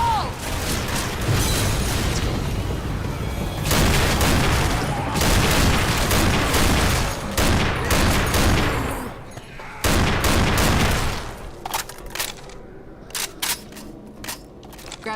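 A thrown explosive bursts in Left 4 Dead 2, setting off a chaotic stretch of loud booms and rapid gunfire that surges in waves for several seconds, then thins out into scattered sharp shots and clicks.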